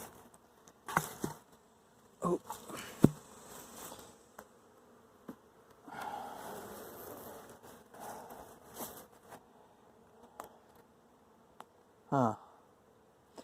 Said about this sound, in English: They're all back in here, you stupid, stupid bees.